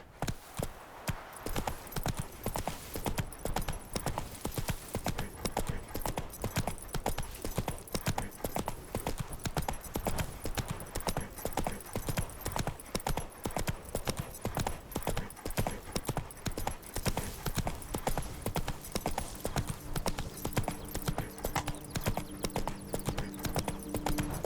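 Steady rapid clip-clop of a horse's hooves galloping across ground in The Witcher 3: Wild Hunt, a continuous driving rhythm that holds for the whole stretch with little else over it.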